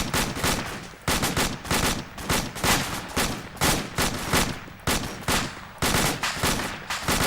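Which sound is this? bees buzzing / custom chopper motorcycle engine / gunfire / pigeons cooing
gunfire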